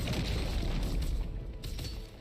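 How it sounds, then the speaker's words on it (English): A dense, booming explosion in the video game Lost Ark, loud and sustained with crackling debris that fades slightly toward the end. "Use an explosion to get him."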